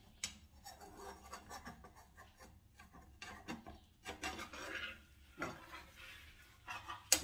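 A wooden utensil scrapes and rasps against a frying pan, loosening crepioca batter made with tapioca and egg, in a series of close, uneven scraping strokes with brief pauses between them.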